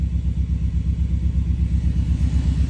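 An SVT Ford Lightning pickup's engine idles steadily with a deep, even rumble and regular low pulsing, close and loud with no talk.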